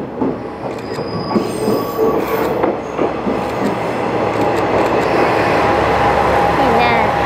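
A local train runs on rails in Japan, its steady rumble joined by high squealing wheels and faint clicking, loud and close throughout.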